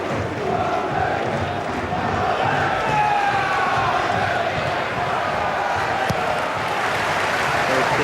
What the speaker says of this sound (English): you can tell by the atmosphere, the crowd are up for it as well